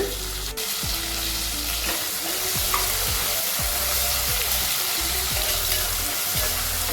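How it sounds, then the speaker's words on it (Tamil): Chopped tomatoes with rock salt sauté in a hot pan, giving a loud, steady sizzle. A spatula stirs them in regular, repeated strokes throughout, with no voices. "நல்லா வதங்கட்டும்."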